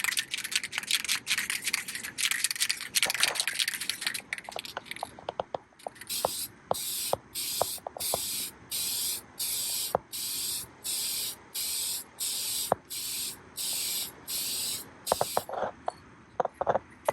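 A spray gun lays paint onto a test panel in a long hiss, then in short, regular bursts with brief gaps between them, with clicks and taps in between.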